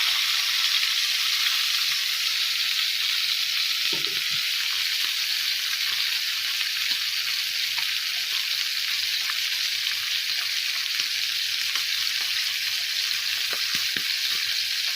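Scotch fillet steak frying in oil in a pan gives a loud, steady, close sizzle that hisses on without pause, with a few faint knocks underneath.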